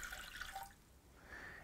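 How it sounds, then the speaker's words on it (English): Water poured into a cooking pan while making a spiced pear syrup, a steady splashing pour that eases off briefly and then resumes, close and moderately loud. "We're gonna start by putting water in our pan"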